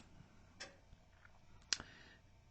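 A computer mouse clicks the OK button in a recording program, giving two faint, sharp, close clicks in an otherwise quiet room.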